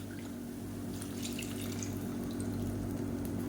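Soaking water trickles steadily into millet flour in a pan, a soft continuous pouring and dripping sound under a low background hum, with no speech.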